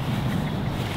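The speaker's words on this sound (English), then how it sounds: "That was wind." Wind blusters steadily across an open golf course, a continuous broadband rush filling the moment with no talk.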